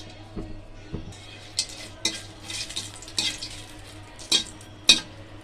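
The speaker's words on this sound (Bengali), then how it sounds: "তেলে দেব জিরা, দুটো শুকনো মরিচ, দুটো তেজপাতা, দুটো এলাচ, দুটো লবঙ্গ, একটা দারচিনি।" Cumin seeds, dried red chillies, bay leaves, cardamom, cloves and cinnamon fry in a little oil, with crackling sizzle under repeated metal spoon stirs and scrapes against the pan, close and fairly loud.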